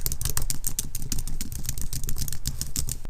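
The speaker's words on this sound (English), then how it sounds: "Alright, fake typing test." Fake typing on a computer keyboard picked up indoors by a RODE VideoMicro on an iPhone: a fast, steady patter of close keystroke clicks over a low background hum, with no talking.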